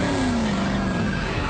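A car pulls away fast with its tires skidding, a continuous squeal under the rising engine noise, moderately loud and close, with no talking.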